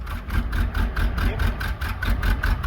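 A small block Chevy V8 idling in a box truck with low compression, a loud, close, rough rhythmic chug with regular pulsing beats over a deep rumble.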